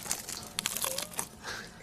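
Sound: breaking off pieces of a lamb burger with crunchy bread

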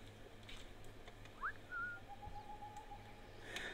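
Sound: whistling to lure a guard in video game Assassin's Creed Rogue

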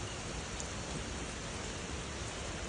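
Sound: rain

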